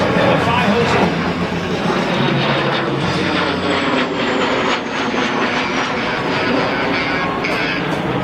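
A Cessna A-37 Dragonfly jet flies past at an airshow, a loud, sustained engine roar with a faint shifting whine, under a continuous voice talking over it.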